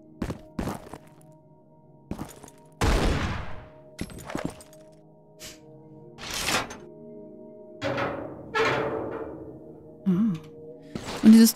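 Gunfire in the Tomb Raider video game, Lara's Busy Christmas custom level: a series of sharp, separate bursts spaced irregularly over several seconds against a steady game hum, loud and close.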